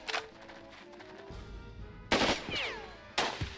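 Soldiers trading gunfire in Jagged Alliance 2: scattered sharp shots early, then two loud bursts of rapid automatic fire with ringing tails, moderately close over quiet ambience.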